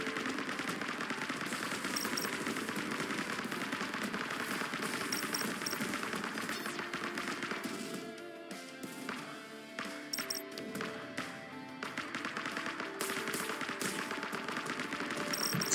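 Gunfire in the sci-fi game The Fall of Aether Station rattles in dense continuous bursts, with shots that thin out briefly midway before the firing resumes at full intensity.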